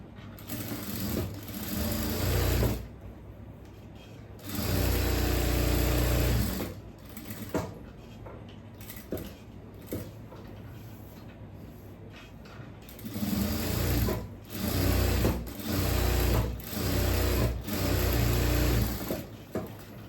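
Sewing machine stitching a churidhar yoke neck, running in several bursts of fast steady whirring separated by short pauses, close and fairly loud.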